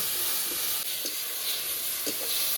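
Black cumin paste with salt, turmeric and dry red chilli powder, plus a splash of water, fries in a pan with a steady, close hiss, broken by a few soft scrapes of stirring.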